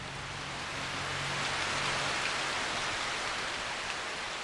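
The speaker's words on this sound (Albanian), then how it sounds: "shirat po intensifikohen në malet mbi Kaziranga" Steady, dense rain falls in the mountains above Kaziranga, India, a continuous hiss of drops on surfaces, fairly distant and even, with no voices.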